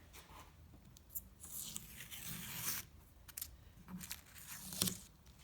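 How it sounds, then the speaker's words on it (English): Tape peels off black plastic automotive trim in quiet, close scratchy tearing bursts, several short rips and crinkles spread over a few seconds. "so I will remove the tape"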